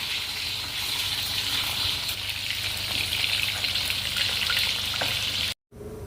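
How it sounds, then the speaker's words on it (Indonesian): Salted fish fries in hot oil, a loud continuous crackling sizzle with bursts of popping spatter that holds steady close by, then cuts out briefly near the end before resuming. "Hari ini saya mau goreng 1 bungkus."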